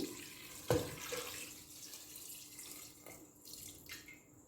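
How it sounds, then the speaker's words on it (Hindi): Water, about four glasses, splashes and pours steadily into a pressure cooker pot, a rushing liquid sound with a clunk near the start and soft clatter later. "इसमें मैं डालूंगी 4 गिलास तकरीबन पानी"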